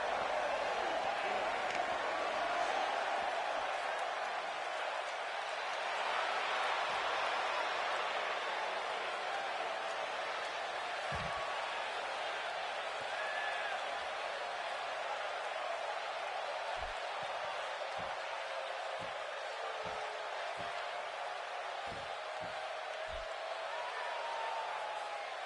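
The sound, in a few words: arena crowd cheering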